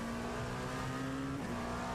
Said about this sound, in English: the way that engine just roars when he opens up the throttle